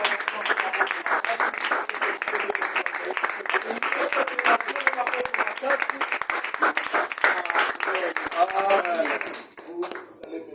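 A church congregation bursts into sustained, dense applause, many hands clapping together for several seconds, loud and close, thinning slightly toward the end.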